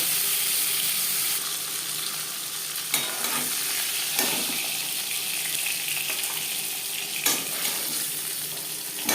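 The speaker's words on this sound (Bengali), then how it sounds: "আমি একটু হালকা করে ভেজে নিলাম" Steady oil sizzling of fish frying lightly in a pan, continuous and close, with a few scraping stirs; no talking.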